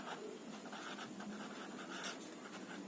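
Marker or chalk scratching across a classroom board in steady, continuous strokes, fairly faint and close, with no talking over it.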